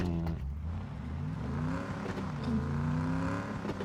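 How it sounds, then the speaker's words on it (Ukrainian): A police car engine in the PUBG battle royale game hums and revs with gliding pitch, a steady mid-loud motor drone throughout. "Поліцейська машинка."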